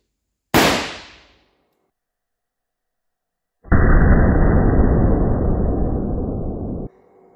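An alarm pistol fires a single sharp, loud blank report in a destruction test, followed after a pause by a long, roaring hiss of several seconds that cuts off abruptly.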